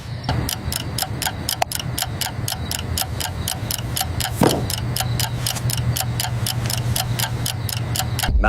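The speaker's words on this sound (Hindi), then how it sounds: "घड़ी की सुइयां टिक टिक कर रही हैं।" A clock ticks in a steady, even rhythm of sharp clicks about twice per second, close and distinct over a low humming background, alone with no voices.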